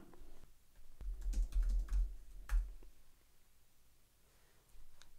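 A password typed on a computer keyboard on macOS, a quick close burst of soft key clicks, then a pause and a final keystroke.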